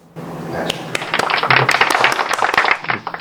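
A small group claps for a guest at a coffee tasting session, a dense burst of close applause lasting a few seconds before tapering off, with some voices underneath.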